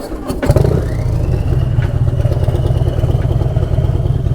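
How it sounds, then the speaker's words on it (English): A turbocharged Harley-Davidson Street Glide with a Stage 4 131ci engine cranks briefly and catches, then settles into a loud, close, lumpy idle with a steady throbbing pulse and a faint turbo whine above it. "You gotta hear me start it up"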